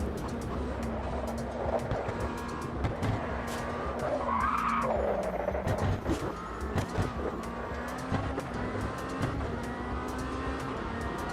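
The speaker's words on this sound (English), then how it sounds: "Through the Porsche curves, the tyres got hot so rapidly." A race car in the Automobilista 2 sim racing game corners through the Porsche curves with hot tyres, its engine droning steadily while the tyres squeal and skid loudly in the middle.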